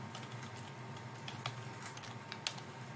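Keys clack on a computer keyboard in a run of quiet, irregular taps with a few sharper strokes, faint and close against a low steady hiss.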